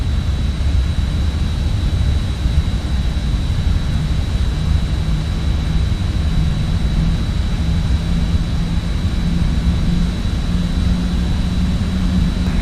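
Just Flight RJ airliner in Microsoft Flight Simulator during takeoff, jet engines producing a loud continuous roar with a steady high whine, unbroken throughout.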